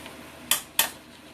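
Two quick, sharp clatters of pinto beans dropping into a pan for chili, close and fairly loud against a quiet background, spaced about a quarter second apart.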